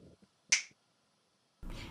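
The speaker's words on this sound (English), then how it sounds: "I have dropped a sound effect that's like a human snap, finger snap" A single sharp human finger snap rings out alone in near silence, crisp and close, with a short tail; other faint handling noises sit before and after it.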